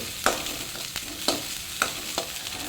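Onions frying in a pan for masala puri, with a soft sizzle under five sharp, evenly spaced scraping strokes of a spatula stirring them, close and clear with no voices.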